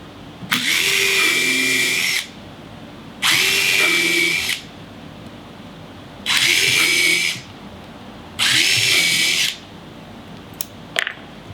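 A power drill drives screws into a wooden hall tree in four loud, close whirring bursts, each lasting about a second or two with short pauses between, followed by a couple of faint clicks.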